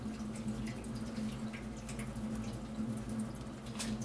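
A tap runs steadily into a sink while hands are washed, close and continuous with small drips and splashes over a low hum.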